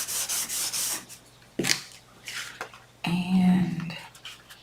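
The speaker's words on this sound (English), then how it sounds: "Glue, fold over," A glued cardboard fold on a small box being rubbed down by hand: short scratchy rubbing strokes, then a crisp snap and a longer, louder rasping rub, close and with no speech.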